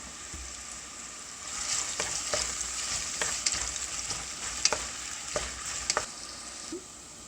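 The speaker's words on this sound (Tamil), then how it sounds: "வெங்காயம் நல்லா எண்ணெயில் வதங்கணும்." Oil sizzles steadily in a pan while a spoon scrapes and taps now and then, stirring chopped onions as they fry.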